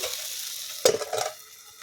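Dried fish dropped into hot oil in a pan, a sudden crackling burst and then a bubbling sizzle that fades to a low simmer, close and alone.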